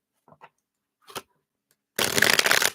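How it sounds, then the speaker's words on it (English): Tarot cards are shuffled at a reading: a couple of soft taps and handling sounds, then a dense, loud riffling burst of cards lasting nearly a second, close and alone. "Let's give these a good shuffle."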